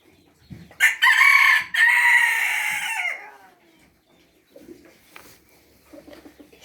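A rooster lets out one loud, drawn-out crow close by, followed by softer clucks and scattered chicken sounds from a backyard flock.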